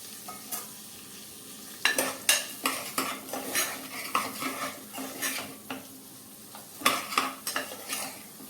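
Cluster beans and potatoes tossed with spices in a pan, a spoon clattering and scraping against metal in irregular bursts of strokes over a soft background sizzle, close by and without talk.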